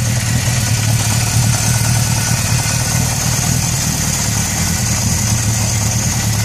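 A 1975 Honda CB750 motorcycle idles steadily close by, its low, even engine rumble running without a break and with no voices over it.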